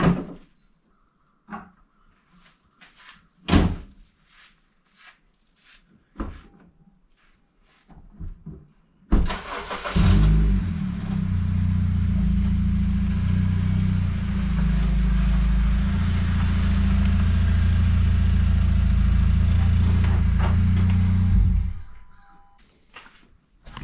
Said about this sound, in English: So let's bring the car in, guys.